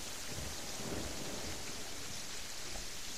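Steady downpour of rain with a low rumble of thunder in the video game Terraria, a continuous dense hiss filling the short stretch without talk.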